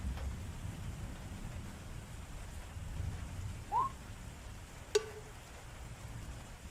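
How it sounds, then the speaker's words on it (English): Rain falls steadily in the background of a garden scene, a soft continuous wash with a brief chirp-like sound and a sharp click rising out of it. "Oh, it's raining."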